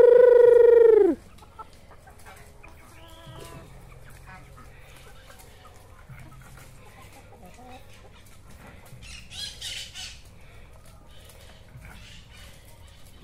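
Backyard chickens fed banana leaves and banana trunk, with a loud squawk at the start followed by quieter scattered clucking and rustling under faint background voices.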